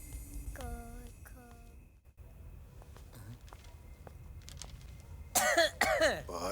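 A person coughs in a Hindi family comedy film scene, giving a few rough, throaty coughs close by with quiet background noise between them, then a louder burst near the end.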